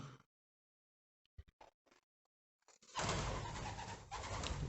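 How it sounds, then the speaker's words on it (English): Pigeon calls in an outdoor setting: a few short, soft coos spaced apart, followed by a louder, steady wash of wind or broadband noise that dominates the rest. "Pigeon."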